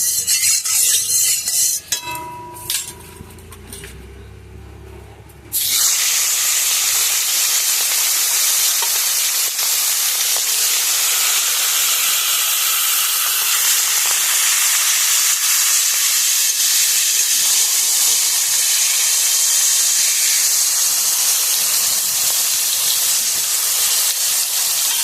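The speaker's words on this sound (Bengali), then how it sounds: "ওদিকে দেখো তেল গরম বসিয়ে দিয়েছি। মেখে নিয়েছি, এবার আমি তেলের মধ্যে দিয়ে দেবো।" Marinated fish heads drop into hot oil and set off a loud, steady sizzle and hiss that keeps going without a break after a few seconds of quieter kitchen sounds.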